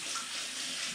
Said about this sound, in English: let me rinse my hands again